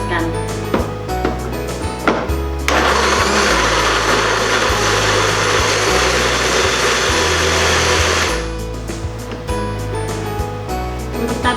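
A kitchen blender grinds red chilies and bird's eye chilies with cooking oil for quail rica-rica, running loud and steady for about six seconds, framed by clattering kitchen knocks before and after.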